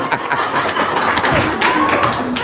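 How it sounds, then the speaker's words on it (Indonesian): An audience claps at a gathering, with a scattered, fairly steady patter of hands and voices murmuring underneath. "Tepuk tangan dong"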